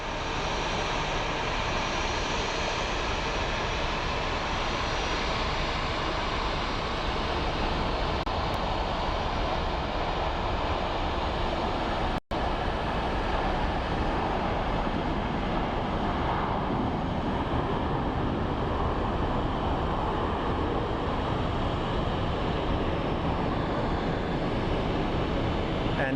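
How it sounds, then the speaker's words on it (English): A Boeing 737 landing at Phoenix Sky Harbor airport gives a steady, broadband roar that stays loud and constant throughout, with wind buffeting the microphone and no talk over it. "And that is a plane that just landed."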